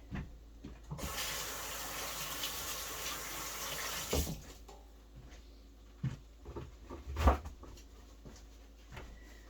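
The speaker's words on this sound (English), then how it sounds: "let me just wash my hands real fast" Hands are washed under a running kitchen tap at a sink, a steady close rush of water that stops, followed by a few faint splashes and clatters.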